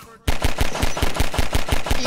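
Rapid automatic gunfire from Half-Life 2 Deathmatch, roughly a dozen evenly spaced sharp shots in a fast two-second burst.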